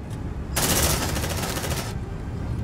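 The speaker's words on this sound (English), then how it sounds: "Deploying sentry gun." A sentry gun in the Aliens: Dark Descent video game lets off a rapid, continuous burst of automatic fire for over a second, loud and close, amid ongoing background combat noise.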